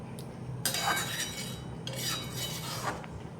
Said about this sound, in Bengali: জল দিয়ে দেওয়ার পর আবারও ভালো করে মিশিয়ে নিচ্ছি